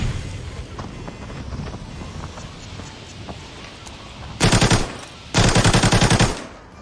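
Two loud bursts of rapid automatic gunfire in the video game Arena Breakout, on the Northridge map, each lasting about a second, following a stretch of rumbling, windy background noise.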